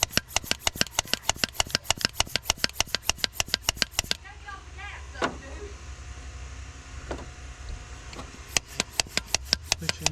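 A hand pump pressure-tests the cooling system of a 351 Windsor engine, giving a fast, regular train of sharp clicking strokes that pauses for several seconds, then resumes, with faint handling noises in the gap.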